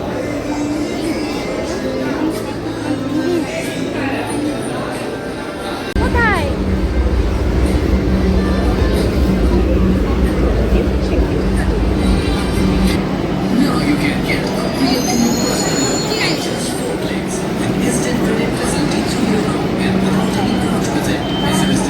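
Interior of a moving metro train, a steady loud rumble of wheels on rails with a faint rising squeal of wheels near the start, while a crowd of passengers murmurs throughout.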